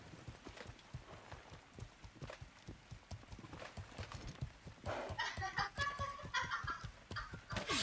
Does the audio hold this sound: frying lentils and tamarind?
no